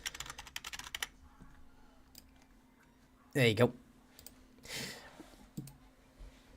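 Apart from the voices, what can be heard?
typing numbers on a computer keyboard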